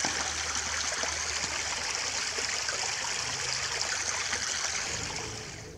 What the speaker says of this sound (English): here's the sound of the creek